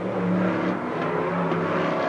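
Race cars jostling for position through the grandstand bend at the TopGear Trophy, loud engine drone with rising and falling revs from several cars packed together nearby.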